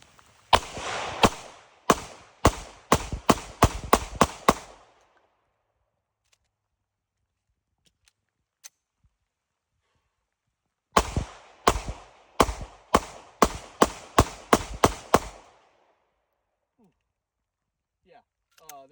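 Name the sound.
Sig P365 pistol shots being fired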